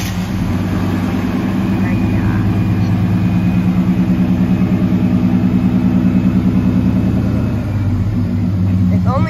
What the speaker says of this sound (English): He's going to start it up for us so we can hear that cold start.